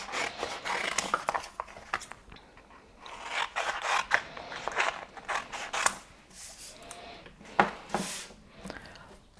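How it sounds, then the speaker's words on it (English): Scissors snipping closely around a cut vinyl design: a series of short, fairly quiet crisp snips and rustles in irregular bursts, with soft handling noise between them. "Going to snip as closely as we can around the edge of the design."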